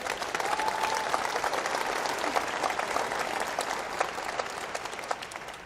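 An audience at a city's state-of-the-city address claps together in a full, even round of applause that holds steady from start to finish.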